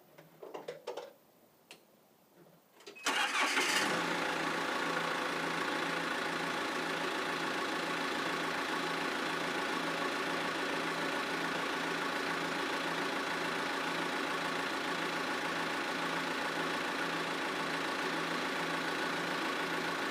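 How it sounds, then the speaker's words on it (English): A machine engine powering a hydraulic auger cranks and catches after a few seconds of handling noise, then settles into a loud, steady, close idle with a rhythmic ticking pulse. "I'm going to start the machine"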